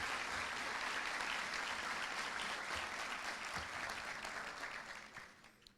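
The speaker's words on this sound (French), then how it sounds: "Je vous demanderai de vous applaudir vous-même." Sustained applause from a conference audience clapping for themselves at the closing of a Haitian United Nations simulation event, a dense steady wash of many hands that fades toward the end.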